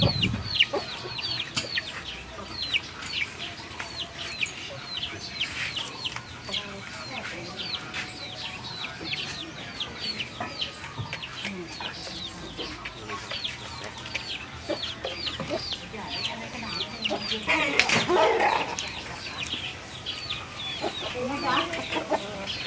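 Chickens cluck and chatter steadily at close range around their new coop, a continuous busy patter of short calls with a louder squawk near the end.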